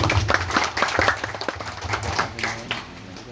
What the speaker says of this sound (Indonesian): Saya minta tepuk tangan dulu untuk Pak Siman.